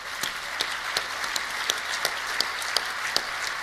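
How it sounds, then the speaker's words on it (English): A conference audience applauding a chairman, a soft continuous patter of clapping with occasional sharper individual claps standing out, moderately distant and even. "you should give him another round of applause"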